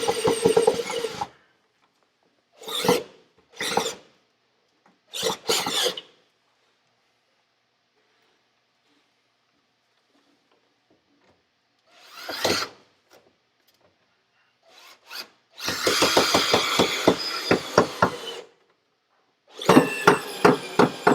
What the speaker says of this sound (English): now I'm putting in the bottom fasteners